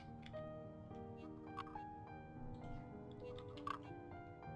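Quiet, scattered clicking of a computer keyboard during C# coding, soft irregular taps over a steady background hum with no talking.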